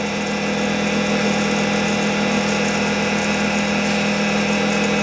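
An 18-inch DCM IG-180-M vertical spindle rotary surface grinder runs on slow automatic feed, giving a loud, continuous mechanical hum with a steady low drone and a bright grinding hiss. The sound stays even and close throughout, with no speech.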